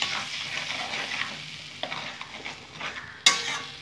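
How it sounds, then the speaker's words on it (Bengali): Prawn curry masala being stir-fried in a pan. A steady close sizzle sits under repeated scraping strokes of a spoon, and a sharp metallic clank lands near the end with no talking. "কষিয়ে নেব যতক্ষণ পর্যন্ত মশলা থেকে তেলটা সেপারেট না হচ্ছে"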